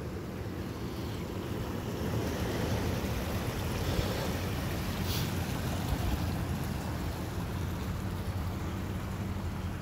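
Rushing water flows down a ravine above a residential property after heavy rain, a loud, steady broadband roar that stays constant throughout with no voices.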